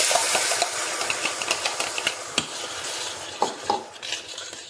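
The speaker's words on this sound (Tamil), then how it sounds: "எண்ணெய் காஞ்சதும் சீரகம் பொரிச்சுக்கலாம்" Cumin seeds spluttering in hot oil while a utensil stirs the pan, giving a steady close sizzle with scattered small pops and a few sharper clicks of metal against the pan.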